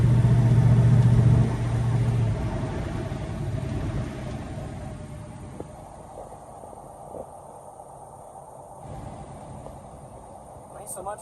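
A 1969 Chevelle SS fitted with a Comp cam rumbles nearby, fairly loud at first before dropping to a quieter, steady low drone.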